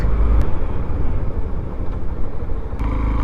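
A large truck passes nearby on a road in Sydney, its heavy rumbling engine loud and close throughout, with a low roar that swells and holds steady, with no talking.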